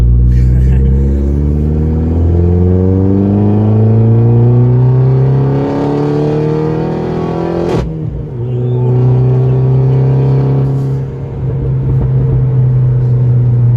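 A stage 3 tuned Vauxhall Corsa VXR hatchback exhaust burbles and gurgles loudly up close, its low rumble rising and falling in pitch as the engine revs and settles.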